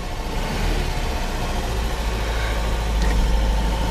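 A Mazda B2200 pickup engine runs rich on a poorly tuned carburetor and idles high, a loud, steady, rough drone with a slight rise near the end and no voices.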